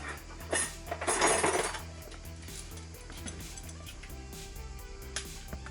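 Metal clinks from a chain whip bike tool being handled on a Nomad Spicy 316 mountain bike, a run of small light chinks with a denser rattle early on, close by over a low background hum.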